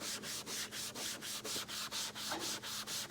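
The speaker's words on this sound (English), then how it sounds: "So what I'm going to do is try to polish on this with a Scotch-Brite pad" Steady rhythmic scrubbing of a Scotch-Brite pad against rough, aged exterior black rubber trim, close up, in even back-and-forth strokes with a gritty, sanding-like rasp.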